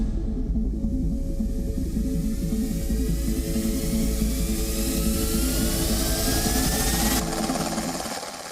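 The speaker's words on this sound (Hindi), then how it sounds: "एक बेहतरीन यह लाइट कॉम्बैट हेलीकॉप्टर है" A HAL Prachand light combat helicopter roars steadily and loudly throughout, its engine whine sweeping slowly upward beneath a dense rotor rumble, the sound easing off sharply near the end.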